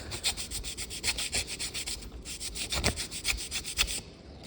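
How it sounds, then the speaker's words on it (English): A dollar bill is rubbed back and forth over a gas furnace's metal flame sensor rod, making close, scratchy, rhythmic strokes with a steady brisk tempo and no talking. "a dollar bill has enough abrasive quality that you can typically clean it with a dollar bill"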